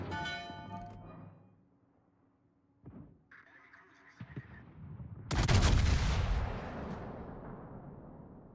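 Warship guns in World of Warships fire a heavy, booming salvo that rolls out into a long rumbling decay, preceded by fainter game tones and softer blasts.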